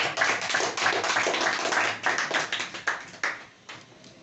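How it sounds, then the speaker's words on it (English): Audience claps at a spoken English event on women's empowerment, a fairly dense run of hand claps that grows sparser and more separated, ending in a few distinct claps. "please give a round of applause for the whole womankind"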